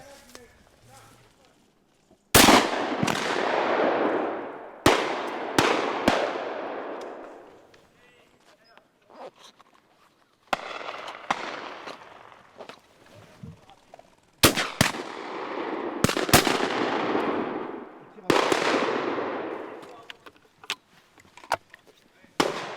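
Shotgun blasts ring out while hunting partridges in open country, several sharp loud reports spread across the stretch, each trailing off into a long rumbling echo, some shots coming in quick pairs.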